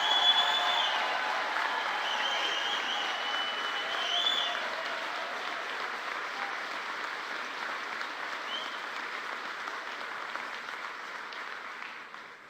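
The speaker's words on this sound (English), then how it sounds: "Give them a great round of applause." A crowd at a Fisker announcement event applauds the Fisker team, a long, even wash of clapping from many people that starts strong, with brief whistles or cheers near the start, then slowly tapers off.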